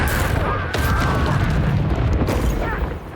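Bombarda explosion spell in the Hogwarts Legacy video game, a loud, rumbling blast with heavy booms and crashing debris, sustained and close, fading slightly at the end.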